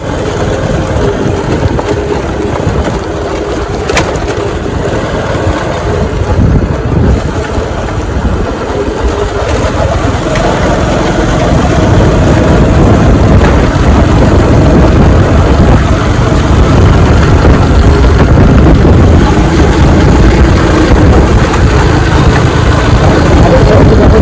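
Engine of an original Honda Astrea 800 motorcycle running steadily at close range, a continuous loud low rumble that holds throughout with a slight rise in level partway, with no talk.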